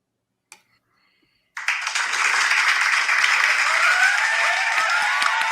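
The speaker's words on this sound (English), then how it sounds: "The roaring applause." After a brief tick and near-silence, roaring applause bursts in from a crowd of fans at a spoken-word performance, loud, dense clapping that holds steady to the end.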